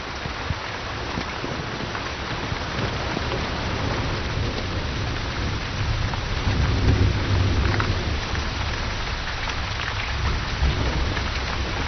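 Heavy rain pours steadily in a thunderstorm, a dense continuous roar with deep low thunder rumbles swelling midway, heard outdoors by someone trying to float a raft.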